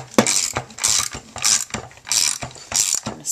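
A Spellbinders die-cutting machine is cranked by hand, its ratcheting gears clicking in a steady rhythm of repeated bursts, close and clear.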